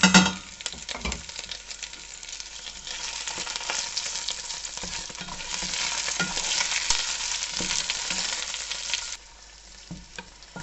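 Freshly ground Indonesian spice paste fries loudly in a pan, with a continuous close sizzle broken by repeated scraping stirs that fade near the end.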